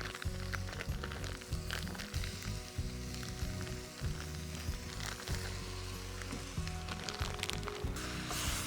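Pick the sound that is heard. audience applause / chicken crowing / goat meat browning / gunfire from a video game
goat meat browning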